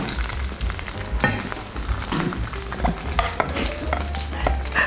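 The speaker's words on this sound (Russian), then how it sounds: "Она трещит на сковородке, когда жарится" Cod fillets fry in a pan with a dense, continuous close-up sizzle and crackle, scattered pops breaking through the steady hiss, with no voices.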